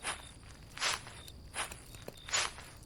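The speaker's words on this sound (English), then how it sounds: "The footsteps move away from the door, heavy and deliberate." Heavy, deliberate footsteps moving away from a door, four slow, spaced thuds that sound fairly quiet and somewhat distant, with no talking.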